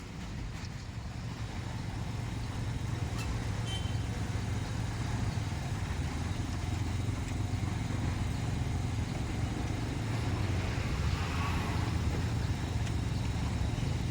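A manual car creeps in reverse during a driving lesson, its low engine hum steady and continuous throughout, close and moderately loud with no speech over it.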